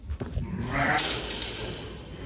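Sheep bleat at feeding time on a small meat-production farm, a near, drawn-out bleat rising after a few short noises and lasting over a second with no talk.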